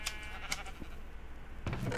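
Sheep bleating in the Minecraft video game, several short game-style bleats spaced across the moment over a steady background, with no talking.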